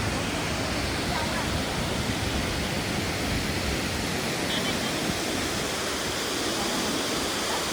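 Bhelughat waterfall in Dokmoka, Karbi Anglong, Assam, roars as a steady, dense broadband rush of falling water, close and constant for the whole stretch with no breaks.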